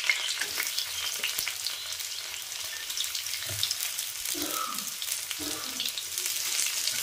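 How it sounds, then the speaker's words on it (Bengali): Chopped ginger, garlic and chilli fry in hot oil with a steady, dense crackling sizzle throughout, close and moderately loud, with occasional stirring clinks. "এই তেলেতেই আমি আদা কুচি, রসুন কুচি আর লঙ্কা কুচি সব দিয়ে দেবো।"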